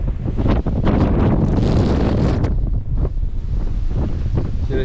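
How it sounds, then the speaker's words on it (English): Strong, gusty wind on a Peak District hilltop roars and buffets the microphone continuously, loud and close, with no other sounds standing out. "I can feel that wind well, I can hear that wind now"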